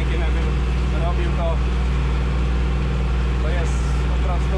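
A John Deere 1950 tractor engine runs at a steady low rumble throughout, close and continuous, while someone talks over it in Polish.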